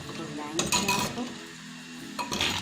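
Onions are stirred in a cooking pan for okra and onion, with a utensil scraping and clinking against the metal over a soft sizzle in a few short bursts.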